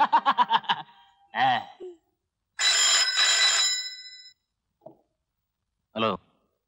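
A telephone bell rings in a quick rapid burst at the start of a Marathi comedy scene, then voices and chuckles follow with pauses between them.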